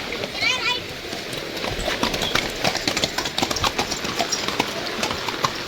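Horse hooves clip-clopping on a rainy path at Mahabaleshwar's Hatticha Matha point, a quick string of close, sharp knocks over steady rain hiss, with a short shrill cry near the start and voices nearby.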